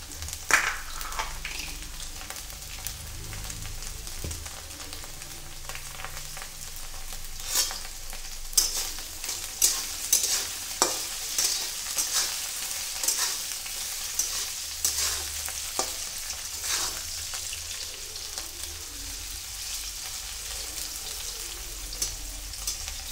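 Food frying in a pan gives a steady, close sizzle, with intermittent clicks and scrapes of stirring and no talk over it.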